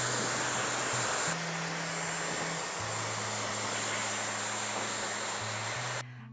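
Dyson hair dryer running at maximum power and maximum heat, a steady, loud rushing blow with a constant motor whine, shifting slightly in pitch as the setting or angle changes, cutting off abruptly near the end.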